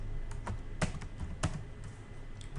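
Keys clatter on a computer keyboard while a formula is typed into Excel VBA: a quick run of close, crisp taps with a few louder strikes, steady and without talk.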